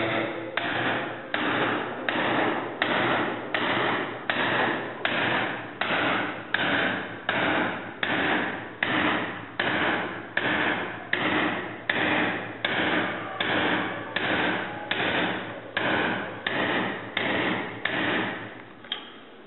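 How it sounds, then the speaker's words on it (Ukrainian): A hammer drives a chisel through metal in steady, evenly spaced blows, about twenty sharp metallic strikes in a regular rhythm, close and loud. "рухами е, кісті молотка таким чином виконуємо рубання"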